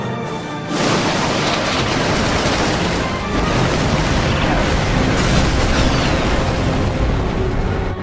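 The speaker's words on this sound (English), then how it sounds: "Give word to the cannons. Make ready and fire." Cannon fire in the video game Final Fantasy XII: after a brief lull, a loud, dense barrage of booms and blasts starts and runs without a break to the end.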